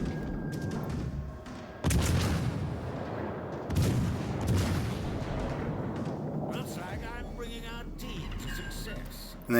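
Cruiser guns firing shells in the naval battle game World of Warships Legends: heavy booming salvos that swell and fade over continuous rumbling, with a sharp burst near the end.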